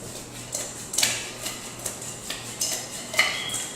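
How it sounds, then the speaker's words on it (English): Shrimp tossed in a spice mix in a bowl, making light scattered clinks and scrapes of utensils against dishware, close up with no talking. "So we're gonna toss the shrimp."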